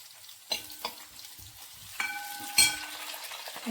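Curry leaves hit hot oil in a pan of Kerala fish pickle, spitting and crackling in a few sharp bursts over a continuous sizzle, close and moderately loud, with no voice.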